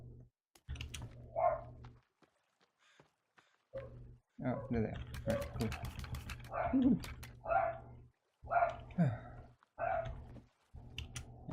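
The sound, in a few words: dog whimpering and barking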